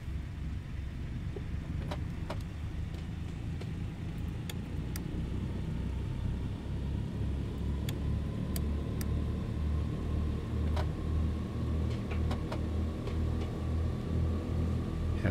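The piston engines of a Douglas DC-3 in a flight simulator give a steady, deep rumbling drone during departure. The loud, constant throb rises slowly in pitch with a few faint clicks on top and no talk.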